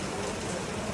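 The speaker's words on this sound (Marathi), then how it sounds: "अचानक खूप जास्त पाऊस पडायला लागला." Heavy rain pours down during a sudden rainstorm, a steady, dense wash of noise that fills the whole second without a break and with no voices.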